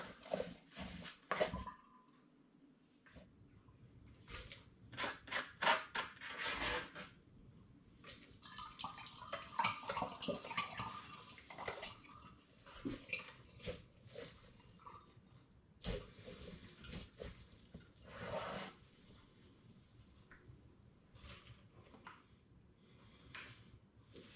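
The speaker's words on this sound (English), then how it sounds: "Then I'm going to push and squeeze the grain to get the liquid out of it and into the demijohn" Liquid from mashed brewing grain poured and squeezed into a demijohn for an all-grain rum and apricot strong ale, with splashing, trickling and dripping bursts that come and go.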